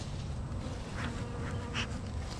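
Honey bees buzz steadily and close during a weekly hive inspection, a dense continuous drone with a few louder passes near the ear and no talk.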